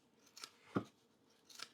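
Buck Splizzors scissors cutting thick duvetine fabric, a denim-like cloth: a few quiet, crisp snips, with a sharper central cut flanked by lighter blade clicks, heard close and alone.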